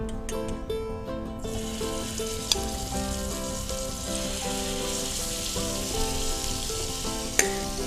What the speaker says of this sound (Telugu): సో చికెన్ గ్రిల్ చేసుకుందామా?